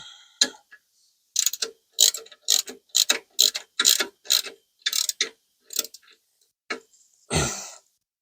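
A wrench ratchets as transmission mounting bolts are tightened, a string of about a dozen short, sharp clicking bursts in an uneven rhythm, close and fairly loud, ending in a heavier clunk.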